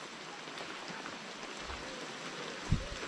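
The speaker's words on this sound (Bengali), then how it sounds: "এই বৃষ্টি হচ্ছে।" Rain falls steadily in a remote hill village, a soft even patter across surfaces, heard at a distance with a single dull thump near the end.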